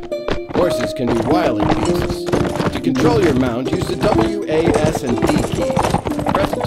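Rhythmic clip-clop of a horse's hooves in the Mount & Blade: With Fire & Sword tutorial, steady and close, with a narrator's voice and game music running over it.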